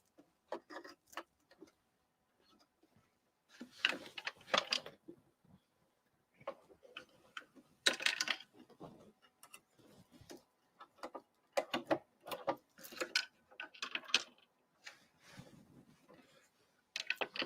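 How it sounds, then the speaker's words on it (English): Quiet clicks, ticks and small mechanical taps from hands rethreading a 4x4 embroidery machine, coming in short irregular clusters with pauses between. "So let's rethread the machine."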